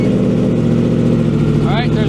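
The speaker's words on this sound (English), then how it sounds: "Let's listen to that cold start." A 2017 Yamaha FZ10 motorcycle engine idles steadily just after a cold start, a loud, even, continuous rumble held at constant level throughout, with a faint higher sweep near the end.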